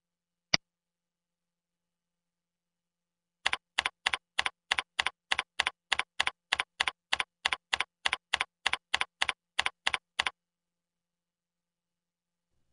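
Someone types a username on a computer keyboard, one isolated key click followed by a quick, evenly spaced run of about twenty crisp keystrokes, close and clean against silence.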